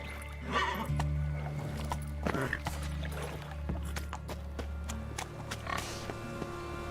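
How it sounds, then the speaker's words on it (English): The horse Roach in The Witcher 3 whinnies in short bursts amid game ambience, with a steady low hum and scattered clatter. Speech runs over it. "Whoa there, Roach."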